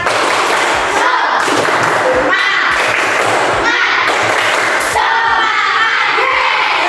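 Classroom of primary school children doing a rhythmic clapping chant, loud and continuous with shouted voices and sharp thumping claps throughout, the whole group chanting together.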